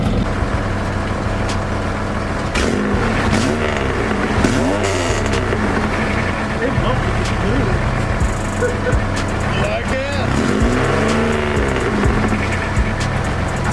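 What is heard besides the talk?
V6 4th gen Camaro engine revving with new exhaust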